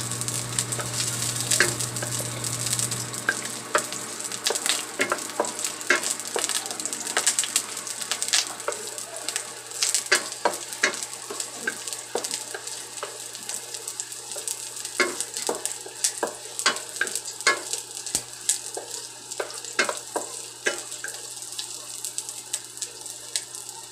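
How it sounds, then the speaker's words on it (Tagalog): Onions sauté in a pan for pork sinigang, a steady close sizzle broken by frequent scraping and clicking stir strokes, with a low hum that stops after a few seconds. "Sauté lang natin."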